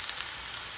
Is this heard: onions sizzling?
yes